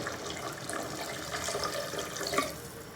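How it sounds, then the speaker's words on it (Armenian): A small amount of water pours into a cooking pot in a home kitchen as a soft, continuous trickling splash, fairly quiet, with no talking. "մի փոքր ջուր եմ լցնում"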